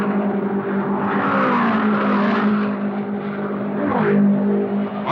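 Race cars at the 1972 Indianapolis 500 drone steadily with a sustained engine whine that dips in pitch near the end, loud and continuous with no talk.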